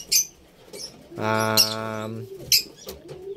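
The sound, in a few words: African lovebirds calling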